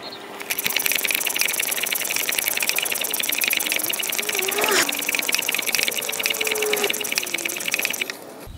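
A compressor or tyre pump runs steadily on the front tyre of a Mk1 Skoda Fabia with a slow puncture, a continuous rattling mechanical drone with a brief voice over it midway.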